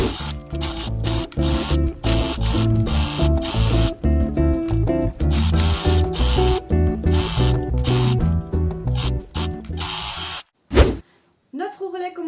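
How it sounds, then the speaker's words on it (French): A sewing machine stitches the side seams of a T-shirt in loud, close bursts of rapid mechanical clatter with brief pauses, then stops abruptly, leaving a short rustle of fabric. "Allez, on va coudre nos côtés."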